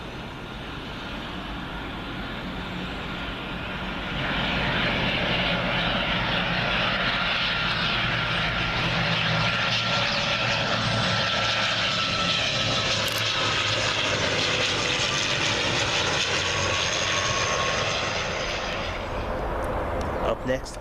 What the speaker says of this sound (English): Got a proper coming in now. Logan Air ATR 42-500